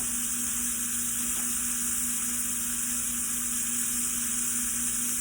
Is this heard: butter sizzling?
yes